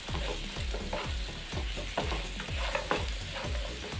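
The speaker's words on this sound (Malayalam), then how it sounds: "ഒന്ന് മസാലകളും സവോളയും ക്യാരറ്റും എല്ലാം കൂടെ നന്നായിട്ടൊന്ന് മിക്സ് ചെയ്തെടുക്കാം." Spices, onion and carrot sizzle in a pan as they are stirred in a steady rhythm of repeated scraping strokes over a constant frying hiss.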